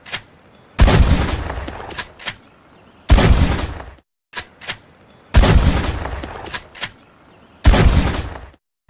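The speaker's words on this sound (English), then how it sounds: "the high-powered pump-action shotgun is a powerful weapon should you find yourself confronted by a wild beast or enemy in close combat" Pump-action shotgun in Red Dead Redemption 2 firing repeatedly, each loud blast followed by the clack of the pump cycling, in a steady shoot-and-rack rhythm with short gaps of silence.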